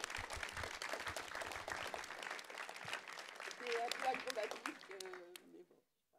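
Conference audience applauding a speaker named Marie, moderate clapping from a seated crowd that swells briefly and then dies out, with voices talking over it near the end before silence.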